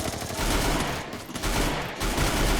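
Rapid automatic gunfire from the mobile shooter Free Fire, loud, dense bursts rattling almost continuously with two brief dips.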